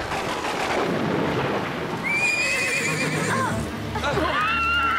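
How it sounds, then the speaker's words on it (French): In a cartoon, a horse neighs and whinnies loudly over a rumbling thunderstorm, with two drawn-out whinnies rising and falling across the scene and a dense low rumble beneath. "Je sais que tu n'aimes pas l'orage"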